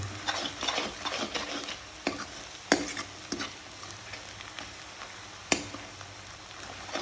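Onions and masala for a chicken curry sizzle in a hot pan under steady, near stirring, with occasional sharp clicks of the spoon against the metal. No voices.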